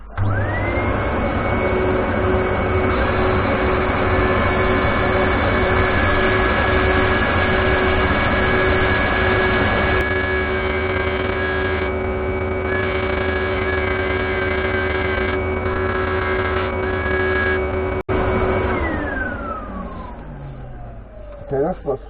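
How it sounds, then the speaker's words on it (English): A lathe spins at speed 500 with a steady high motor whine while sanding grinds against recycled pine, loud and close, then the machine winds down at the end. "So I'll show you a little bit of the sanding,"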